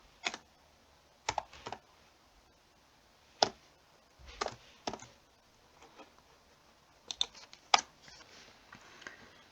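Typing code on a computer keyboard during a programming lesson on loops: sparse clusters of crisp key clicks with pauses between them, close and fairly quiet, no voice.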